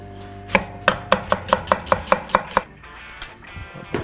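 A knife chops an onion on a cutting board with nine quick, evenly spaced, sharp knocks. A softer scraping follows.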